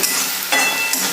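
Onion sautéing in hot oil for poha, a loud close continuous hiss and crackle with a couple of brief surges as the pieces are moved around.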